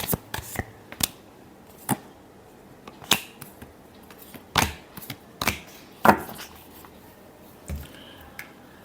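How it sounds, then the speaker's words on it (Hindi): Tarot cards handled and shuffled close by, a sequence of irregular crisp slaps and papery flicks spread across several seconds, fairly loud and without speech. "last shuffle"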